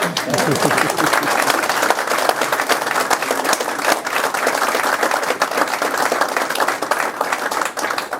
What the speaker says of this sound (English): This is good, we can applaud.